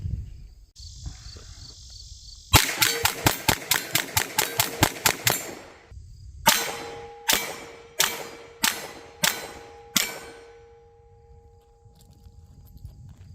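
A 9mm pistol fitted with a Cyelee Cat Pro red dot sight fires a quick string of about a dozen sharp shots. Roughly seven slower, evenly spaced shots follow, loud and ringing, with no talking.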